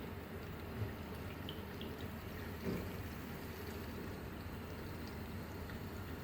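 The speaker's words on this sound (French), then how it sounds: "Donc on ouvre et après on va observer la circulation d'eau." Tap water runs through the tubing of a lab condenser set up for an organic synthesis, a faint, steady hiss of flowing water with a light trickle and a couple of soft knocks, continuous and without speech.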